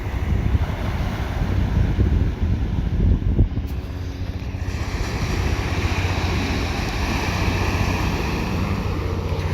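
Ocean waves wash in steadily at the Atlantic City boardwalk, a broad roaring surf mixed with heavy wind rumble across the microphone, constant and close throughout.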